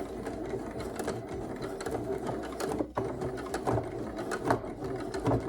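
A sewing machine runs steadily and close, stitching along the facing of a simple summer dress, its rapid mechanical clatter continuing with only a brief dip.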